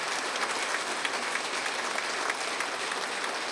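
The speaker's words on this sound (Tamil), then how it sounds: "உண்மையிலேயே அதுக்கு ஒரு கைத்தட்டல் கொடுங்க" Audience applause at a Tamil astrology book launch event, a steady dense clapping from a crowd that fills the room evenly and continues without break.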